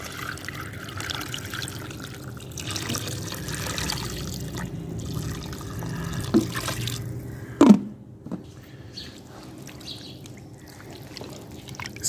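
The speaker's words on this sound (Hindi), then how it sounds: "और पानी इसमें डाल देंगे।" Water is poured into a cooking pot holding chicken, white vinegar and salt, giving a steady soft trickle under background hum, with a sharp clink of the vessel near the end.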